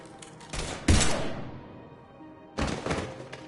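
Gunfire bursts in a video game, two loud thumping volleys of rapid shots about two seconds apart, separated by a quieter lull.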